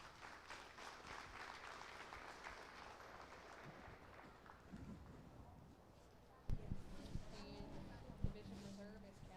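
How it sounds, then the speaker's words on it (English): Audience applause at a county fair heifer show, a steady wash of clapping through most of the stretch with crowd noise, then a few louder scattered claps and bumps near the end. "Let's give them all a round of applause."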